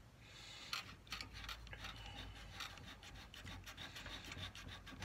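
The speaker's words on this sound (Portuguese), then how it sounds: "Aqui eu estou lixando um pouquinho mais" A reed for a wind instrument being sanded with sandpaper makes a steady, close rasping scrape of repeated strokes, quiet and continuous, with no talk.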